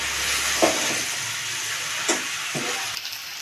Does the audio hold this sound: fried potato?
yes